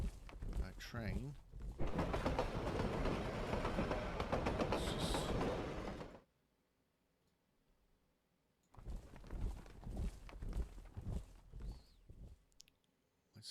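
A train runs in a World War I strategy game, making a loud, dense rolling rumble for several seconds. It drops into near silence before other game sounds return.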